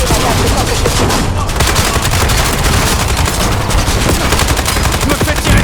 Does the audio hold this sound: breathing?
no